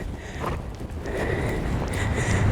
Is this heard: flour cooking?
no